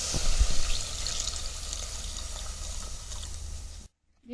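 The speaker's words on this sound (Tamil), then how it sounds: "இந்த மட்டன் முழுகிற அளவுக்கு தண்ணி ஊற்றிக்கலாம்." Water is poured into a cooking pot of mutton for Tamil-style mutton chukka, a steady, close rushing pour that continues for nearly four seconds before stopping abruptly.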